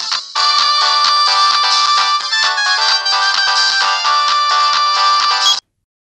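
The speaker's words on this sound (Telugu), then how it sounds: "మళ్ళీ రింగ్ అవుతుంది." A phone ringtone plays loudly and close, a repeating bright electronic melody that runs steadily for several seconds and then cuts off abruptly.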